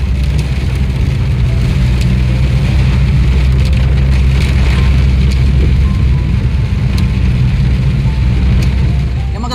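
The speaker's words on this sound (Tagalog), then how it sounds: "Ngayon po ay umuulan." Steady rain falls in a dense, continuous hiss with scattered louder patters and ticks, loud and close throughout with no pause.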